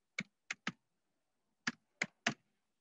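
Six crisp computer keyboard keystrokes entering figures into cheque printing software, close and quiet, grouped in three taps, a pause, then three more, with no speech.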